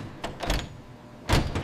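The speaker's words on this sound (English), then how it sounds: "The doors are sealed, locking in the cargo." Truck trailer doors at a potato chip factory are slammed shut in two heavy bursts, a rattling clatter near the start and a louder thunk near the end, with no voices.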